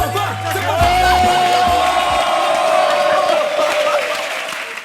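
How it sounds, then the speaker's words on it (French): An audience at a French comedy show applauds and cheers loudly, with dense clapping and some whoops over a held musical tone, fading slightly at the close. "Allez, on les applaudit."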